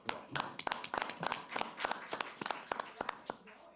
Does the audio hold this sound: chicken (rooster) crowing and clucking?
no